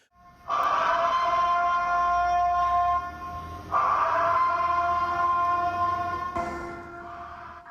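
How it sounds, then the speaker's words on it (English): A city curfew siren in Crowley sounds as a loud, sustained harmonic wail with a sharp break partway through, then rises again and fades into a weaker tone near the end. "That siren, known by many from the movie The Purge, was not received well by some living in Crowley."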